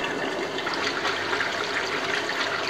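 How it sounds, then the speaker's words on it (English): Air pump bubbling water in a koi pond filter during maintenance, a continuous loud rushing, gurgling wash of water that holds steady throughout, with no talking. "switch over the air from the pond"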